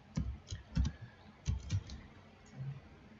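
Soft keys clatter on a computer keyboard as a wallet password is typed: a few quiet, close clicks in small irregular bursts, then a pause and one faint final tap, with no talking.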